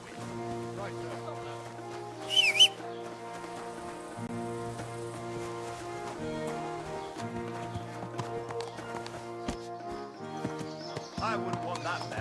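Horse hooves clip-clop steadily on a road in Kingdom Come: Deliverance II, a rhythmic trotting pattern under a long stretch of game music, with a brief louder snort or whinny early on.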